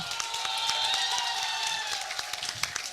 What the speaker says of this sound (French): Est-ce qu'on peut applaudir Chronicle pour sa 3e place